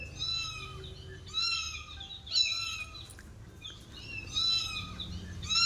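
Several high, wavering meow-like calls from a person mimicking a cat, repeated in short bursts with pauses, close to the microphone.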